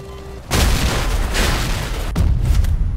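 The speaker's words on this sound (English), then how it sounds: "Suicide bomb incoming!" A suicide bomb blows up in the vehicle combat game Crossout: a loud, close, rumbling blast bursts in suddenly after a brief lull and roars on, with a second crack partway through.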